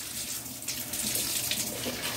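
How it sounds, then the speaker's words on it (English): Cold water runs steadily from a kitchen tap into a sink while potatoes are being washed, a continuous close hissing splash without breaks and no talking. "I'm going to run some cold water."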